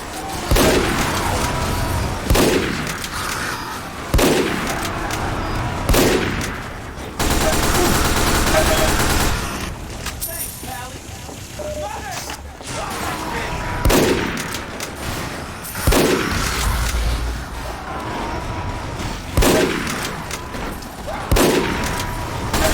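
Rapid bursts of gunfire from the video game Team Fortress 2 repeat across the whole stretch, loud and dense, with brief pauses between volleys and some booms mixed in.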